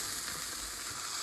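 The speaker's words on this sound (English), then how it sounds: "Yeah, hear that sizzling?" Food frying in a pan gives a steady, close, dense sizzle throughout, with no voices over it.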